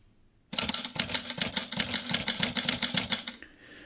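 Rapid typewriter key clacks play as a sound effect over a step-by-step Keynote typewriter text animation, a steady run of sharp taps lasting about three seconds before stopping abruptly.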